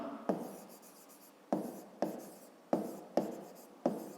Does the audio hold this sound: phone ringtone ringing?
no